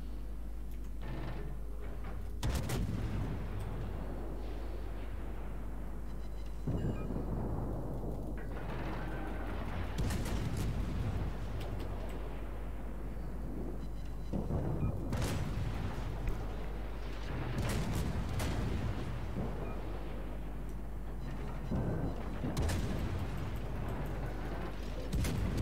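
Naval guns fire in the World of Warships game, with several heavy booms spaced across the stretch over a constant low rumble of sea and engine noise, with no voices.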